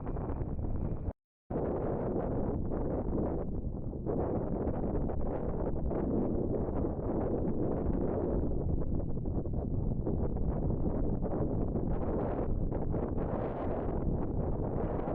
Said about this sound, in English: The wind had picked back up